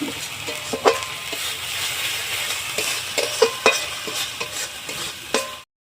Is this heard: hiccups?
no